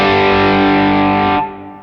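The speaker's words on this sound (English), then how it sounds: "So let's say I'm using the green side of the Protein" An electric guitar played through the green side of a Protein overdrive pedal rings out as one sustained, gritty driven chord, then cuts off sharply near the end, leaving a fading tail.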